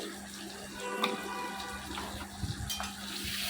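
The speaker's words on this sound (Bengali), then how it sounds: "এখন খুব ভালো করে নেড়েচেড়ে মিশিয়ে নিয়ে খুব ভালো করে ভেজে নিচ্ছি" Spices for a taro and fish curry are stirred in a pan, with a soft scraping and sizzling wash and a few light metallic clinks of a spoon against the pan, quiet and close.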